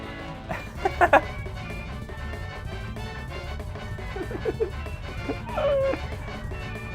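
Several GameCube consoles run video games at once, producing an overlapping jumble of game music, chirps and effects, with a few sharper bursts over a steady busy background.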